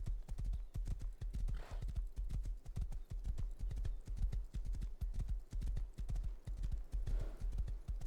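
A horse gallops in the survival video game Rust, with a rapid, steady clip-clop of hooves close and loud throughout and a faint snort or whinny at moments.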